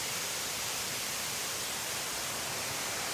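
A dense, unbroken roar of rushing water, loud and even throughout with no pauses.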